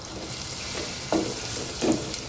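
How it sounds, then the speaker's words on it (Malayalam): Chopped onion sautéing in hot oil with salt, a steady soft sizzle with occasional stirring scrapes, close and moderately quiet, no talking. "എണ്ണ ചൂടായാൽ ഒരു സവാള ചെറുതായിട്ട് കട്ട് ചെയ്തത്. ഇനി ഇത് നല്ലൊന്ന് വാട്ടിയെടുക്കാം."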